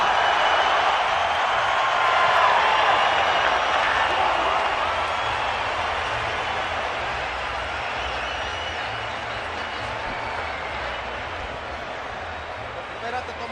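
A boxing crowd at a Canelo versus Triple G fight roars steadily throughout, a dense wash of cheering and applause that swells early and then holds at a sustained level.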